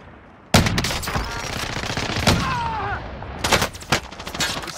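Gunfire in the video game Call of Duty on Rebirth Island, with sharp, loud shots in quick bursts and rapid automatic fire over a dense battle background.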